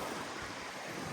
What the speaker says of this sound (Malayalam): കാറ്റ് രക്ഷയില്ല.